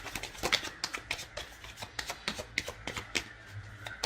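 Tarot cards being shuffled and handled at close range, a steady run of soft, crisp riffling flicks and slaps with no talking.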